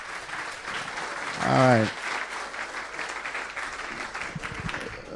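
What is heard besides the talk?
audience applause for Prof. Carolyn Cooper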